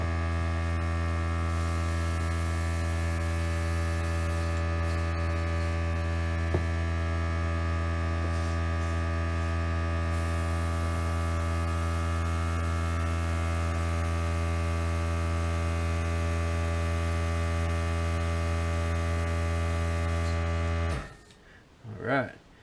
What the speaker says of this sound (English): As soon as that compressor kicks off